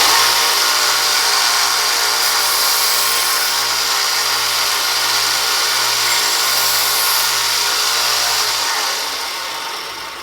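A belt sander with a 400 grit belt grinds a knife blade, producing a loud, continuous abrasive whir over a low motor drone that winds down near the end.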